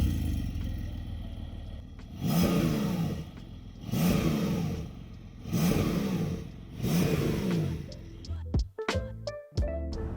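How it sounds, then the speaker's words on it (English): A Porsche 911 Targa GTS with a hybrid single-turbo flat-six revs repeatedly in four strong, evenly spaced surges, close and loud, ending in a clattering rise and fall. "because now it's a single turbo, you have a nicer sound. Take a listen."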